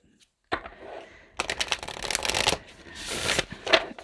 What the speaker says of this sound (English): So I'm going to pull cards from the Akashic Tarot